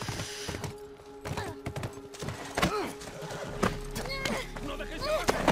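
A horse in the game The Last of Us whinnies several times amid clip-clopping hooves, the neighs fairly close over a busy game soundscape, with people talking.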